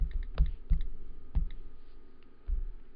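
Fingers tap out a database name on a computer keyboard, a few quiet, irregular clicks and taps in an otherwise still room.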